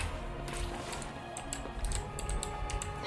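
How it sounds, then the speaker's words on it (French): Loud clattering typing on a noisy computer keyboard, keystrokes tumbling in quick uneven bursts close to the microphone over a steady background hum. "Mon clavier. Il fait beaucoup de bruit."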